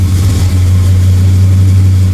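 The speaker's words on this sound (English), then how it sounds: "Oh, it's running lean, super lean. Gotta give it some gas to keep it going." An engine running lean, rough and misfiring, is revved with gas to keep it alive, giving a loud, steady low hum close by with slight waver and no one talking.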